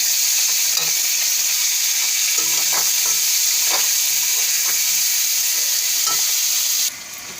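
Curry leaves, ginger and tomato sizzle in hot oil for a tadka, a steady close frying hiss with faint stirring clinks, dropping quieter near the end; no talking.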